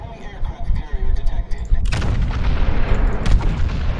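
Naval gunfire striking a ship in a video game, a heavy booming impact landing loud and close with a rumbling tail, followed by more shots under excited talk.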